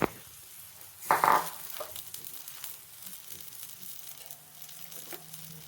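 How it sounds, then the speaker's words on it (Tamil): Yogurt-soaked bread toasting in a pan with ghee sizzles steadily, with a louder burst of frying about a second in before settling back to a soft, even crackle. "இதை அப்படியே டோஸ்ட் பண்ணி எடுத்துக்கலாம்"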